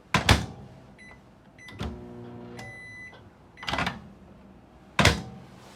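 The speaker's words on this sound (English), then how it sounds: "And for your microwave, open." Several loud clunks and thumps spaced a few seconds apart from a microwave oven in a 2022 Ember Overland Series 170MRB travel trailer, with a couple of short electronic beeps and a faint hum between them, close by.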